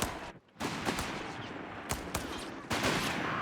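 Rifle gunfire in the World War II strategy game Company of Heroes 3 on the Dunkerque map, with riflemen firing on Grenadiers: a few sharp separate cracks mixed with denser battle noise.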